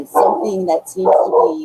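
Dogs bark in the background of an indoor interview, short yapping bursts mixed under a person's steady talking across the whole short stretch.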